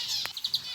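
Finches and lovebirds in a home breeding aviary give a few quick, high, faint chirps in rapid succession.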